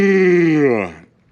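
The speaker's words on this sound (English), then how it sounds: "sorry, I'm yawning." A long, drawn-out yawn from one person, a sustained voiced groan that slowly falls in pitch and trails off into quiet.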